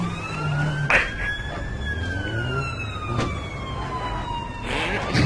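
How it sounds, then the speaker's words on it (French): An ambulance siren in the video game APB Reloaded wails past with a steady rising and falling tone over traffic rumble, mixed with some brief sharp hits and bursts of noise. "Oh, l'ambulance elle passe."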